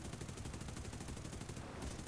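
A B-24 waist machine gun in a flight video game fires one sustained, rapid burst that rattles steadily for a couple of seconds, fairly faint throughout.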